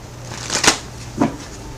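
Tarot cards are shuffled up close in two quick riffling bursts, the first louder and the second softer, with no talk.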